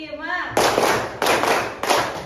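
A class of students claps in unison on a counted cue: three sharp, evenly spaced group claps ring out in the room after a short spoken prompt.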